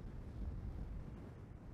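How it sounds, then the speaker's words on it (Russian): Strong wind buffets a handheld camera microphone by a gulf near Zenit metro and Yacht Bridge in Saint Petersburg, a continuous low rumbling roar with gusty fluctuations and no voices. "Даже камера трясется от ветра."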